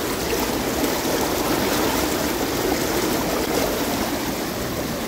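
Running water washes an old coin dug up while metal detecting in New England, making a loud, constant rushing hiss with no pauses.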